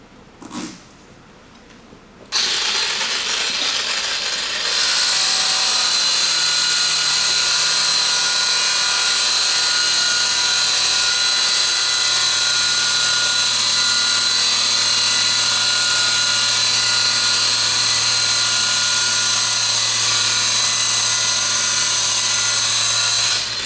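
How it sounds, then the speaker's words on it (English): Rotary sander working on a car panel in a detailing shop, starting after a brief click and then whirring loudly and steadily for over twenty seconds with a constant high whine. "I'm going to sand this little section here."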